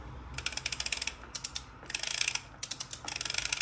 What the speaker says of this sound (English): we have our torque wrench set to 25 newton meters